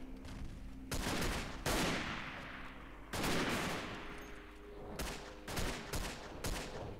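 A sniper rifle fires in the World War I shooter game Verdun: several loud, sharp shots spaced a second or so apart, each followed by a long rolling echo that fades out, with no speech over them.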